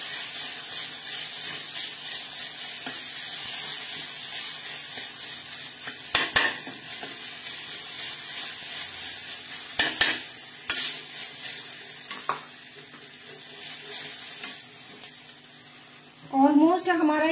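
Peas roasting in a pan on a home stove, stirred with a utensil: a steady sizzle with soft scraping and occasional clinks, continuing throughout, with a brief louder scrape near the end.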